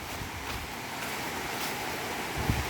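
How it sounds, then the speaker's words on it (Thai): Chanaen waterfall gives off a steady, broad rushing wash of falling water, soft and fairly distant, unbroken throughout with a slight wind-like roughness. "จุดแรกของน้ำตกชะแนนครับผม"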